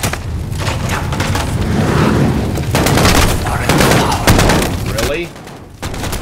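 Dense gunfire in the video game Modern Warfare Remake: continuous overlapping shots and bursts, loud and close, with a brief spoken word in the middle.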